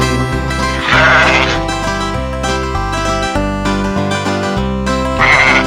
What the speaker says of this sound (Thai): แบะแบะแกะดำ